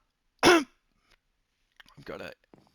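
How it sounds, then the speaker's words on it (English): One sharp, loud cough or throat-clearing close to the microphone, followed by quiet and then a softer, rougher throat sound. "gonna cut all this coughing out"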